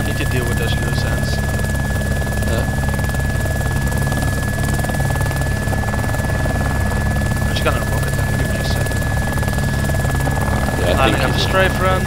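Helicopter flying in a video game, its rotor and engine thrumming loud and continuous throughout, with people talking over it.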